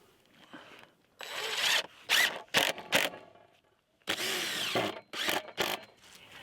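A power drill drives 1 1/4 inch deck screws into pressure-treated wood in bursts of whirring and grinding, several short runs separated by brief pauses, close and alone with no talking.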